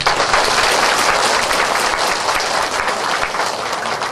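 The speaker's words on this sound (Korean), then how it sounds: "우리 박수 한번 좀 주세요." Steady, loud applause from a church congregation during a Sunday morning worship service, dense clapping filling the room evenly without a break.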